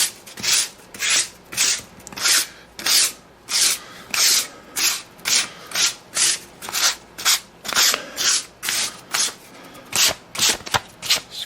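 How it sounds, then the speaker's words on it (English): Fine 180 grit sandpaper lightly scraping model railway layout roads, a steady rhythm of about twenty quick raspy strokes, close up and alone. "I'm going to take sandpaper, and you'll want to get fine sandpaper. This is 180 grit."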